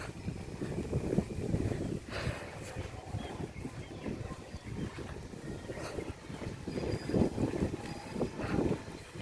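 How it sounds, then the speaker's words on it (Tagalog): Gusty wind buffets the microphone outdoors on a walk home from a small market, a steady rumbling roar with stronger bursts; faint talk is scattered underneath. "So, mahangin guys"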